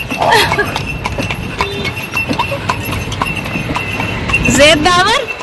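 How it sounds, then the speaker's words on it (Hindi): A horse-drawn carriage rides near Agra's Red Fort, its hooves clip-clopping in a steady close rhythm, with a person's voice briefly heard near the end. "तो बच्चों को मैं घोड़ा गाड़ी की सवारी करवाने के लिए जा रही हूँ"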